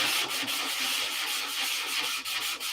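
Hand sanding of fillets on a homebuilt airplane, a close, dry, rasping rub repeated in quick regular strokes, loud and steady without talk.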